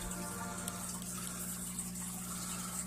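Water steadily filling a 10 gallon aquarium tank, a continuous close splashing rush with a low pump-like hum beneath, no talk.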